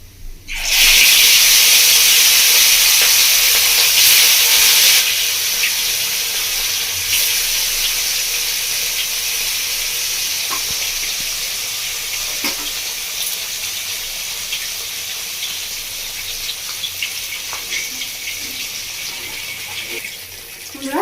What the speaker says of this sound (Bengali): আর একবার মাছটা ভেজে নেব।